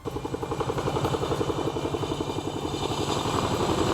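An Air Force Chinook twin-rotor helicopter lands at Bharmour in Chamba while evacuating stranded pilgrims, its loud rapid rotor thumping pulsing steadily under a heavy engine roar throughout.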